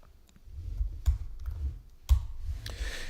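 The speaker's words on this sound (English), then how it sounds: "So let's type multiple numbers here." Numbers typed on a computer keyboard: a few close, light key clicks spread over a few seconds, with a louder tap near the end and a faint low hum underneath.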